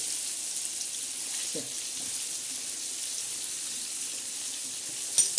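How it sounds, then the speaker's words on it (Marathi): Mackerel (bangda) fish frying in a pan over a low flame, giving a steady, soft sizzle that runs throughout, with a brief clatter near the end. "बारीक गॅस करायचा थोडा आपली मच्छी तळत आहे"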